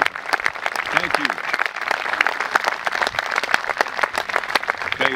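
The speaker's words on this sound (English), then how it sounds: "let's give them a great round of applause" Sustained applause from a crowd at a cemetery Memorial Day service in Groveport, Ohio, dense clapping filling the whole stretch with steady intensity, a few voices faintly mixed in.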